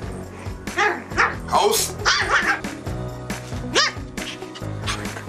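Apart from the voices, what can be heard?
dog barking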